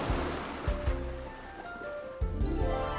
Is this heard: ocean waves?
yes